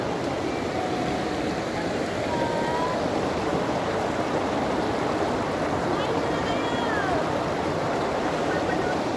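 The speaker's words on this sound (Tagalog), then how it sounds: "Waterfalls." Steady broadband rush of a waterfall and flowing clear stream water at Pozzo di Domaso in Italy, continuous and fairly loud throughout, with faint voices and chirpy sounds barely showing over the roar.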